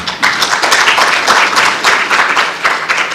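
Hand clapping from an audience at an environment event, a dense steady patter of many claps throughout, moderately loud with no voices over it.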